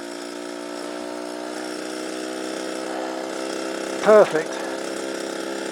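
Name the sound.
vintage moped engine pulling away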